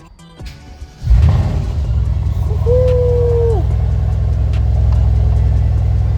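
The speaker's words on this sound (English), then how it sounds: "Foot on brake. Engine start." A Mercedes-AMG GLC 63 S V8 barks to life with a sharp starter catch and loud flare, then settles into a deep, steady idle with a brief rev; a person whoops once over it.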